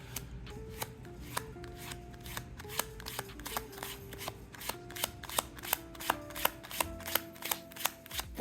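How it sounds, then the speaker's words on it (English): Playing cards cut into a small packet and then dealt off one at a time in a steady rhythm of crisp, close snaps and flicks, repeating throughout with no talk. "I cut off a small packet of cards,"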